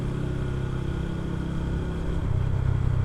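A TVS Ronin motorcycle's engine runs steadily on a ride along an expressway, a continuous low rumble with a slight rise toward the end and no talk.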